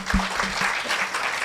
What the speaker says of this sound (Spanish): Recibamos entonces a Verónica con un fuerte aplauso, ¿sí?